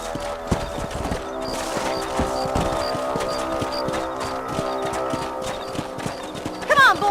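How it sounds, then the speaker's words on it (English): Horses trot in the video game Red Dead Redemption. Their hooves give a steady, close clip-clop rhythm, a neigh comes near the end, and voices talk over the hoofbeats. "Let's get back on the horses and see what else is going on."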